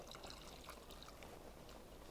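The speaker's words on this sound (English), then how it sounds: "We're going to add enough water to make sure all the vegetables are covered." Water pours steadily into a pot of cut vegetables for beef stew, a continuous splashing trickle at moderate, even level from start to finish with no talk.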